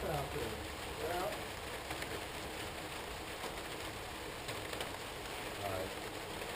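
Outdoor rain falls steadily in a damp setting as a constant, moderately loud hiss with no breaks, and faint birds are audible.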